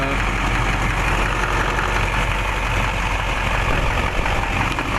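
A Duramax LLY diesel truck engine running loud and steady at close range after an injector replacement, a constant rumbling idle with no break for the start.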